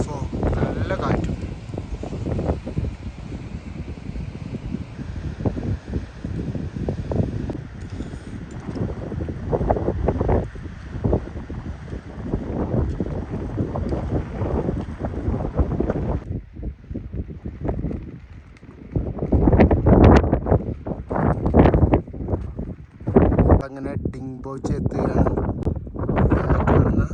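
Strong gusts of mountain wind blow on the foggy trail between Dibuche and Dingboche on the Everest Base Camp trek. The gusts buffet the microphone in loud, uneven bursts while people talk over them.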